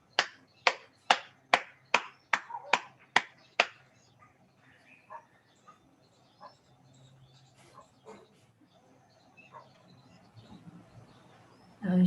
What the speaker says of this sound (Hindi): गंगा की पवित्र धारा के लिए तालियां।